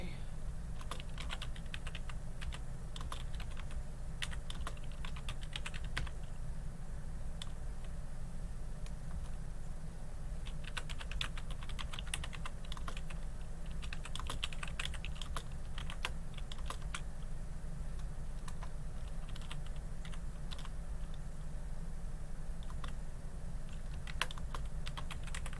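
Typing an email on a computer keyboard: steady, rapid clicking of keys in irregular bursts, close and fairly quiet over a constant low background hum, with no talking.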